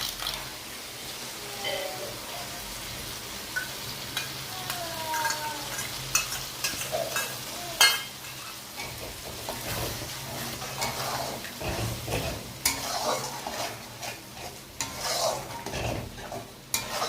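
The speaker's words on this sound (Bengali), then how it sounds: "মশলাটাকে আমরা ভালো করে কষিয়ে নেব।" Beaten sour yogurt and spiced masala, with a little butter, are stirred and fried in a pan for a bhetki fish rezala. A steady close sizzle runs throughout, broken by irregular scraping stirs and occasional utensil clinks against the pan, with no talking.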